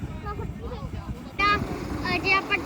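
A tractor strains to pull a trolley stuck in the ground, its low engine rumble droning continuously and swelling louder partway through, while people talk nearby.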